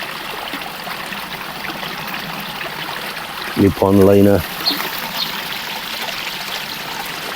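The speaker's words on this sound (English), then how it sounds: "you got water bypassing the old waterfall and new filter system" Steady trickling water from a garden pond waterfall runs throughout, with a brief burst of a man's speech partway through.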